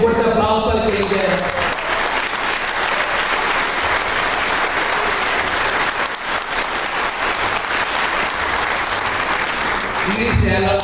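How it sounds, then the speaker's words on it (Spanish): Loud, dense applause from a church congregation fills the space steadily, with a voice audible at the start and end. "Un fuerte aplauso al que llega."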